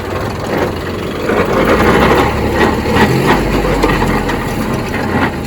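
Tractor engine driving a rotavator through full soil, a loud, steady low rumble that swells as the throttle opens, running continuously without speech.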